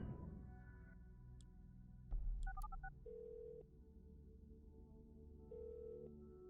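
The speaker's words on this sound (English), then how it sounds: "We're getting a phone call." An incoming phone call rings in the game Orwell as a short burst of electronic dial-like chirps and tones over a steady synth music bed, followed by a held sustained tone, moderately loud and with no talking.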